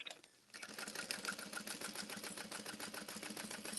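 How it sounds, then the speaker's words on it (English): A domestic sewing machine stitches the seams of a Valora handbag in a fast, steady, unbroken run of needle strokes. It starts after a brief quiet moment and continues close and clear to the end, with no talking. "making sure I'm only sewing through my seams"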